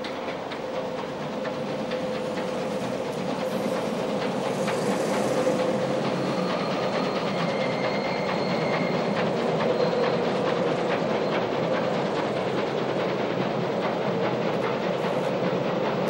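A Class 24 steam locomotive hauls its train across the River Bridge at Kymans, a steady chuffing rumble with rhythmic wheel clatter and faint whistle-like tones, sustained and moderately distant throughout.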